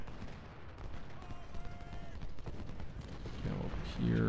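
Musket volleys and artillery fire in the Civil War strategy game Ultimate General: Civil War, scattered distant cracks and thumps layered over a continuous battle rumble, with a heavier burst near the end.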